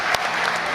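Applause breaks out at a 2004 wrestling match, a brief burst of crowd clapping with one sharp clap standing out near the start.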